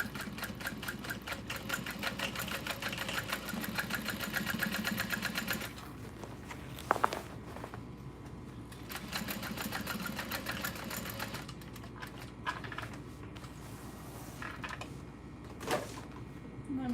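A sewing machine runs back and forth in short bursts of back stitching, its rapid mechanical whirr starting and stopping with brief pauses and a few clunks between passes, close and steady.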